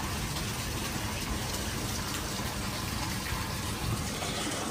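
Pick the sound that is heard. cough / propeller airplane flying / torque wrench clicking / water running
water running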